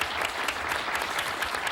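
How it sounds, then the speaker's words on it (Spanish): Studio audience at a 1989 Spanish television game show breaks into dense, sustained applause, loud and even throughout the short burst, with no voices over it. "Esto yo creo que merece un aplauso para empezar"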